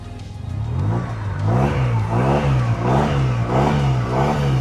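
A Yamaha TMAX 560 (2026) two-cylinder maxi scooter engine revving hard several times in a row with traction control off, rising and falling pitch in quick rhythmic bursts, loud and close.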